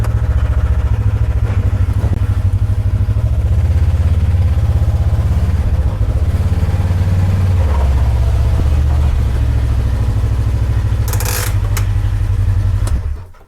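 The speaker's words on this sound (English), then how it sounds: "I wanna get the KRX into the garage so I'm not doing everything in the sun." A Kawasaki KRX side-by-side's engine runs steadily and close by as the machine is driven into a garage, a loud continuous low drone with slight rises in revs, then cutting off near the end.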